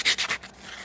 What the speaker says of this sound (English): So I'm just going to go over with my sandpaper